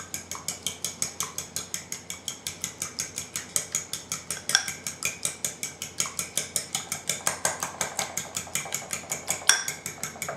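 A fork beats eggs in a bowl with a fast, steady run of sharp metallic clicks against the dish, close and loud, with no talking.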